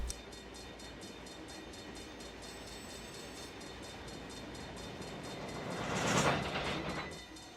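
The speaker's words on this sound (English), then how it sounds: "Now that the train is headed downhill, it is hard to stop." A freight train rolls downhill in the Run 8 train simulator game, giving a steady, continuous rumble of cars on rails. A brief horn-like swell rises near the end, and no one speaks.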